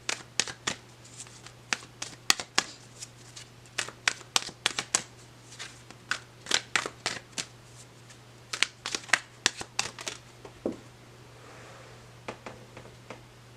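Oracle cards are shuffled by hand close by, a run of crisp riffling snaps and flicks in irregular bursts that thins out toward the end, with a low steady hum beneath and no talk.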